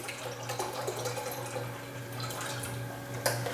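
Organic chicken broth pours into a saucepan on a stove with a faint, continuous liquid trickle and a few soft splashes, heard alone.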